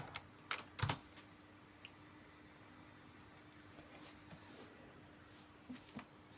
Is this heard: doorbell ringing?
no